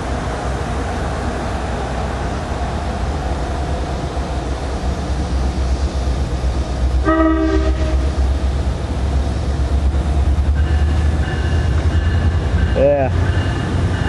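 A train with NJ Transit and Metro-North PL42AC and GP40PH-2B locomotives rumbles past, a loud, continuous low roar that swells midway and carries brief higher tonal horn blasts.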